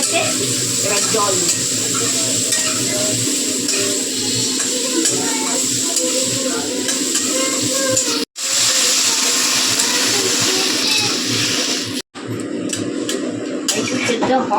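Vegetables frying in a hot pan hiss and sizzle steadily, a loud broadband crackle that runs nearly the whole time, broken by two brief dropouts, with a voice talking over it at times.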